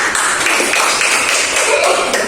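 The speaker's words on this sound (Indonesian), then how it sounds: "tepuk tangan untuk teman-teman" Classroom applause for classmates during a micro-teaching lesson, brisk and even, a small group clapping close by for a couple of seconds.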